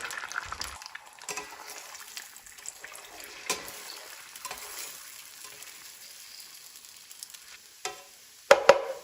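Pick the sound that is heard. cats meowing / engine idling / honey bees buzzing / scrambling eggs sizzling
scrambling eggs sizzling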